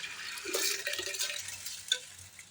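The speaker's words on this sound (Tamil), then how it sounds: "இப்போ நம்ம கழுவி வச்சுக்கிற அரிசியை சேர்த்துடலாங்க" Washed rice tipped into a pot for sambar rice and stirred, a soft scraping, rustling wash of grains with a brief clink of the spoon against the pot near the end.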